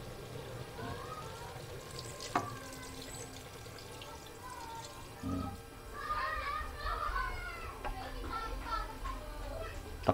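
A glass of water is poured into a pot of taro cooking with snails. There is a brief splashing pour, then softer trickling, with children's voices and chatter in the background.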